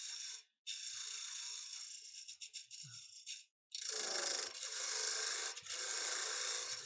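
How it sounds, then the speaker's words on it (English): A woodturning tool cuts back the tenon on a wooden box spinning on a lathe, giving close, raspy scraping passes in two long bursts separated by a brief pause. "So I just need to cut it back a little bit because that tenon is a little bit big."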